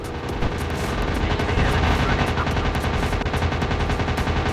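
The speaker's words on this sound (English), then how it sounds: "I'm being shot at. This is not good at all." Rapid machine-gun fire from World War II fighter planes in the Warplanes: WW2 Dogfight video game, a dense continuous rattle of shots over engine drone, loud and sustained throughout.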